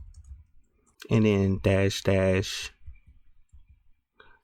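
Light clicking of a computer keyboard comes in short bursts before and after a voice while he works on Linux containers.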